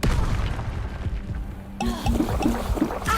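Incendio fire spell cast in Hogwarts Legacy: a sudden whooshing burst of flame that breaks in partway through, followed by crackling magical impacts and short flaring pops, while other spell effects and background noise continue.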